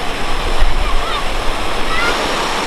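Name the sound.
waterfall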